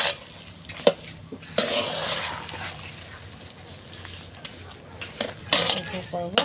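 Scraping and clinking of a utensil stirring sinukmani rice cake with brown sugar in a pot, intermittent knocks and scrapes against the pot, with a voice talking nearby.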